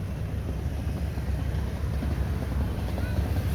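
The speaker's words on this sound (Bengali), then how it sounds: "এই বোট রিসোর্টে যাবে, এই বোট, দেখছেন" A motorboat on its way to a resort crosses open water, heard as a steady low engine drone mixed with wind buffeting the microphone.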